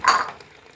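A spoon stirring chicken and bottle gourd in a pan, giving a single brief scraping, clinking stroke that fades quickly, close and alone.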